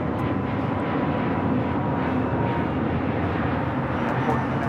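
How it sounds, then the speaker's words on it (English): An American Airlines Airbus A321neo takes off from Los Angeles airport, its engines producing a steady, broad roar that stays even and fairly loud across the whole stretch, with no voices over it. "This is American Airlines Flight 850 taking off to Phoenix on the A321neo"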